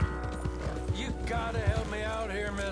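Horse hooves clip-clopping in Red Dead Redemption 2, a steady rhythmic trot close by, layered under game music and ambient sound with a brief whinny.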